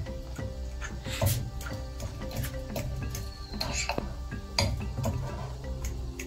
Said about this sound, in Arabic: نقلب نقلب كده بسرعه ونقلبها كويس قوي ونهرسها كويس علشان تبقى ناعمه